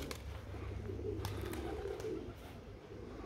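Pigeons coo softly inside a pigeon loft, a low murmuring call over steady background noise, faint and a little distant, with a few sharp clicks and no one talking.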